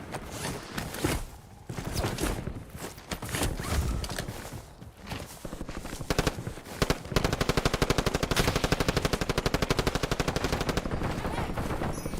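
Rapid automatic gunfire in a video game, a long loud stretch of machine-gun bursts with dense rhythmic shots, mostly steady and continuous, with some louder cracks.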